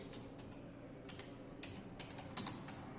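Typing on a computer keyboard during a school computer lab lesson: light, irregular key clicks at close range over a steady background hum, with no voices.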